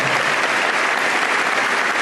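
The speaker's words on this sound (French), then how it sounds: "Un fort applaudissement pour nos frères et sœurs" Dense, steady applause from a large audience at a French-language gathering in New York, continuous clapping with no pauses.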